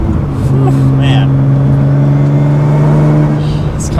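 Nissan GT-R with an upgraded race front-mount intercooler accelerating hard on the road, a loud, steady engine drone holding a sustained pitch for several seconds, close and continuous.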